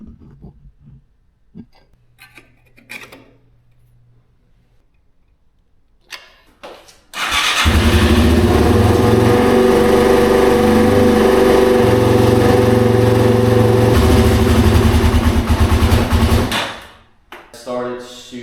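A neglected Yamaha TW200 motorcycle cranks and fires after a few seconds of quiet clicks and handling noises, then idles loud and close with a steady chugging drone for about ten seconds before shutting off.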